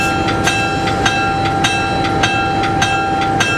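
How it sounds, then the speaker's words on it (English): Recorded aboard the engine of the Napa Valley Wine Train in California, rolling steadily along the track with a loud rumble, rhythmic wheel clicks recurring every half second or so, and a constant high whine. "I'm sitting on an engine of a train."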